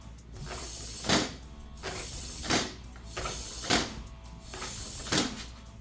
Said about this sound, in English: we're going to give the tire a spin, and then we're going to go ahead and squeeze down on our front brake lever